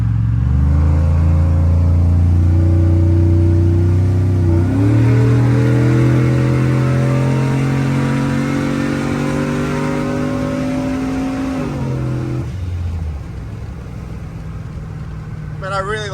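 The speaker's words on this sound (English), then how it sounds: "do another second gear pull." A ProCharger supercharged Chevrolet Silverado sleeper making over 650 horsepower pulls hard in second gear, a loud rising engine and supercharger whine climbing steadily to a shift near the twelve-second mark, then easing off.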